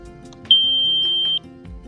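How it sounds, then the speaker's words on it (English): A laser level receiver emits one steady high-pitched beep lasting under a second, loud and clean over faint low background noise, while framing basement walls. "As you get close, it'll start to beep."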